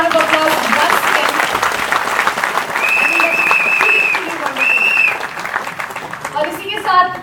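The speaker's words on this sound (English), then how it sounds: "A big round of applause once again." An audience at a Jeunesse India event in Delhi gives a sustained round of applause, with dense clapping and scattered whistles and cheers running throughout.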